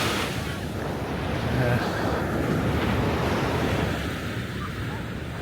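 Rough sea surf breaks and roars continuously on a beach in Lagos, loud and near, with heavy wind buffeting the microphone.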